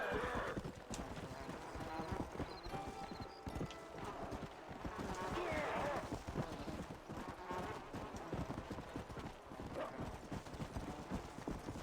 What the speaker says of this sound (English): It's actually not a horse at all.